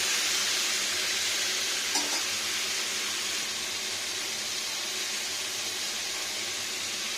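Food fries in a pan with a steady, close hissing sizzle that lasts throughout. A single faint clink comes early on.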